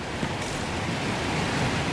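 A waterfall in the video game Dragon Age: Inquisition gives a steady, full rushing roar, loud and continuous throughout with no voices over it.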